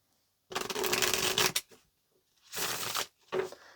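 Tarot cards are shuffled nearby in three bursts of crisp riffling and fluttering, one long burst followed by two shorter ones with brief silences between, and no voices.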